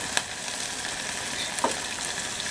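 Dela fish curry cooking in a pan, a steady soft sizzle and bubbling throughout with a couple of brief scraping clicks, fairly quiet and close.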